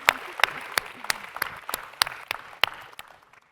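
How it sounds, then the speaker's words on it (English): Scattered clapping from a small audience after a lecture at a cosmology prize ceremony, with distinct sharp claps standing out over a soft background of voices and fading toward the end. "let's give Frank one more big round of applause"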